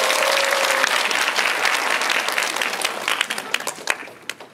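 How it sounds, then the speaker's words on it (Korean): A cinema audience at a Veteran 2 screening Q&A with Zo In-sung and director Ryoo Seung-wan, at Lotte Cinema World Tower, claps loudly in a dense, sustained burst that thins into scattered claps and fades out. "박수 한번 크게 해주세요."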